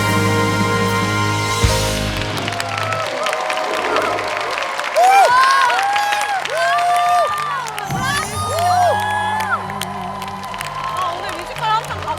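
A TV studio audience cheers, whoops and applauds a singer's medley, the crowd noise mixed with her sustained singing and the band's music over about twelve seconds.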